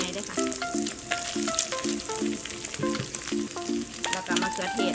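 Sliced onion stir-fries in a pan for Thai egg fried rice, giving a dense, steady frying sizzle with occasional stirring clicks, set under a melodic backing tune.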